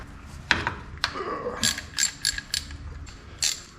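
A socket ratchet clicks in short bursts while turning a steel brake line fitting on a Bronco's drum brake setup, each ratchet stroke crisp and close amid faint metallic handling.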